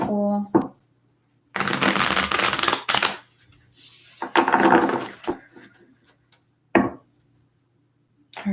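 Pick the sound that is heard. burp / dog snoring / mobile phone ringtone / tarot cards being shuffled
tarot cards being shuffled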